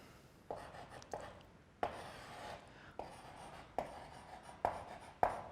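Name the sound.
writing notes during a physics lesson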